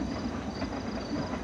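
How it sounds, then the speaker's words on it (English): In the video game Life is Strange, a train rumbles past with a steady, dense rolling roar and hiss, close and continuous for the whole moment. "You know, that's a train."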